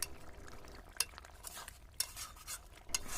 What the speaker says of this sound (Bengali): এইভাবে আমি একটা আলু ভেঙে ঝোলের সঙ্গে মিশিয়ে দিচ্ছি, তাহলে ঝোলটা অনেকটা গাঢ় হয়।